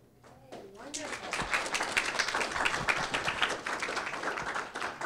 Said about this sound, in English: Let's give another big round of applause for both speakers